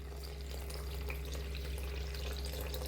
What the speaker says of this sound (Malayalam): അപ്പോൾ പുളിയുടെ വെള്ളം ഒഴിച്ചു കൊടുക്കുന്നുണ്ട് കേട്ടോ.